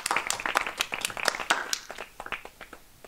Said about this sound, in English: Give yourselves a round of applause for all you've achieved in your time here